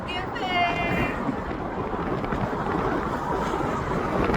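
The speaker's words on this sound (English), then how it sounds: "it is cold up here. The wind's blowing" Cold morning wind buffets the microphone outdoors in San Francisco, a steady rushing roar under a voice as he talks.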